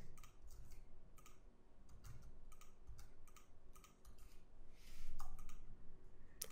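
Computer keyboard typing numbers into Adobe Illustrator: a quick, irregular series of soft key clicks in short bursts, close and fairly quiet over low room hum.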